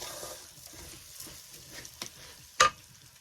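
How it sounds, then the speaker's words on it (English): Rice fries and toasts gently in a pan for mushroom risotto, giving a faint, close sizzle broken by soft stirring scrapes and one sharper clink near the end. "We're going to gently fry this or toast this with the rest"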